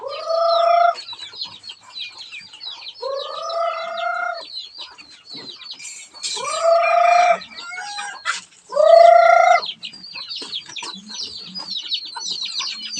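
Several chickens cluck in loud, drawn-out calls, four main bursts spaced a few seconds apart, over a steady bed of softer clucks and chirps.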